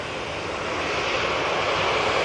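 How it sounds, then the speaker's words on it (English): Ryanair Boeing 737 MAX 8 arriving from Dublin at Manchester Airport passes with a loud, steady broadband engine roar, close and sustained throughout, with no talking. "Next arrival, Ryanair from Dublin, 737 MAX 8"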